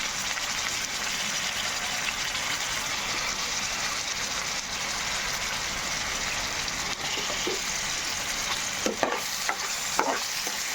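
Potatoes stirred into frying onions in a pan give a steady, dense sizzle throughout, with a few louder stirring scrapes near the end, close by and with no talk.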